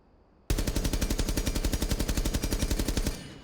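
Rapid automatic gunfire from a rifle fitted with a muzzle brake in Rainbow Six Siege, a single sustained loud burst of about thirty evenly spaced sharp shots lasting roughly three seconds, close and alone.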